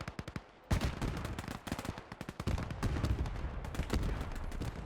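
Gunfire in the WWII video game Gates of Hell, near a factory area with a Panzer IV: dense, loud crackling volleys of rifle and machine-gun shots, with sharp single cracks that merge into sustained rattling bursts.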